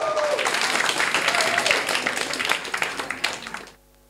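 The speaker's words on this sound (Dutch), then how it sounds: "mag ik een warm applaus voor Karin van Kanthout" Warm audience applause at a poetry slam round in a Rotterdam reading room, dense steady clapping with a few voices that tapers and stops abruptly near the end.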